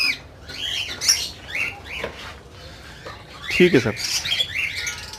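Ring-necked parrots in breeding cages give scattered sharp squawks and chirps at mid distance, while someone speaks briefly over them.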